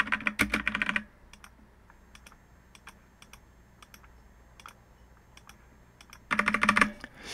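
A card number being typed on a computer keyboard: a quick run of close, crisp key clicks, a few sparse taps in a quiet pause, then another brisk burst of typing.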